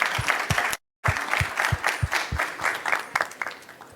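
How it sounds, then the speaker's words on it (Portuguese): Audience at a business talk in Brazil breaking into steady, loud applause, dense clapping from a large crowd that continues for several seconds with a brief cut partway through. "Palmas para vocês."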